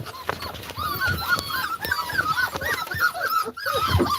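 Excited puppies whimpering and squealing nonstop in high, overlapping cries as their mother dog arrives, lively and close.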